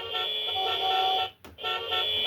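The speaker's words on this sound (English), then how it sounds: "You can have car sounds beeping their horns." A 2002 Playmates World of Springfield Main Street toy car horn beeps in a steady electronic tone, breaks off briefly, then sounds again, loud and close.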